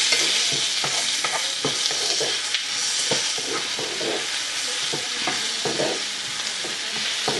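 Onions frying until brown crackle and hiss loudly and continuously in a pan, with rapid repeated scrapes and taps of a spatula stirring them up close.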